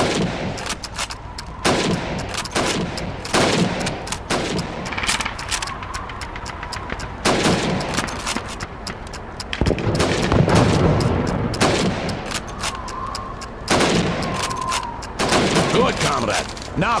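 Rapid rifle shots ring out in Call of Duty 2 as helmets are shot during a timed range exercise, sharp repeated cracks at close range mixed with other battlefield gunfire and voices.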